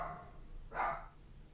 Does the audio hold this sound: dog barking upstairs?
yes